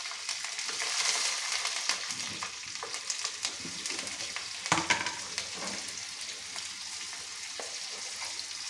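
Four chilies and a pinch of turmeric frying in hot oil for a Telugu pachi pulusu, giving a steady close crackling sizzle with occasional spatters and stirring scrapes, no voices.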